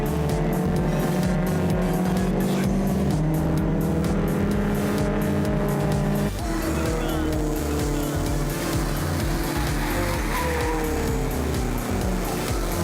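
Vintage racing cars, Mercedes and Fords, lapping a circuit with loud, droning engines that rise and fall through gear changes, with a commentator speaking over them throughout.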